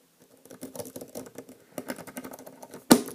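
A lock pick rakes a small Master padlock, a quick patter of light metallic clicks and scrapes at close range, ending in a sharper snap as the shackle pops open.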